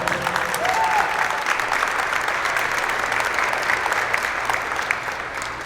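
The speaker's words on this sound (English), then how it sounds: "So let's go ahead and start off by giving them all a big round of applause." An audience at a youth sports camp award ceremony claps steadily for several seconds, a broad even wash of applause that fades gradually toward the end.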